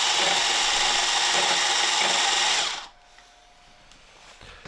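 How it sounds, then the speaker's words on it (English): A food processor whirs loud and steady up close, mincing a crab cake binder into a paste, then shuts off, leaving quiet room tone with a faint click. "We're going to mince this up with the food processor"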